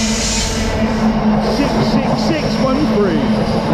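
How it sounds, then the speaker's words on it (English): A freight train running from Dagenham Dock yard to Hope Cement passes through Wellingborough station with a loud, steady rumble and a droning engine tone, while someone speaks over it. "this is a freight train that's come from Dagenham Downyard and is going back to Hope Cement"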